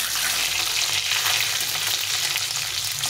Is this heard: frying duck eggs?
yes